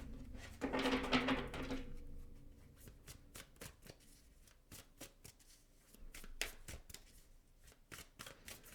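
A tarot card deck is shuffled by hand, a dense riffling burst at the start followed by a string of crisp, separate card snaps and flicks, close and fairly quiet, with no talking.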